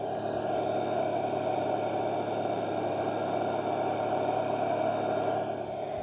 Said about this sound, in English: If you want to hear the engine, I'll give you a second.